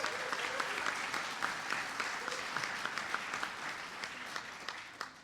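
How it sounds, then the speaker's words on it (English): Enthusiastic applause from a large conference crowd, dense and sustained clapping that fades slightly toward the end. "Give him a round of applause."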